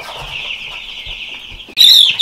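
Jumbo Cornish Cross broiler chickens cluck and chirp in a high, continuous chorus, ending in a sudden loud squawk close by.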